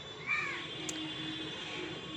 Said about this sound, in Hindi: कौवा उड़ के चला गया